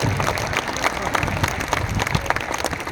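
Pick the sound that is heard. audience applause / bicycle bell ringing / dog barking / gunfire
audience applause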